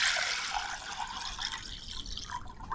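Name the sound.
water being poured into a bowl in a vase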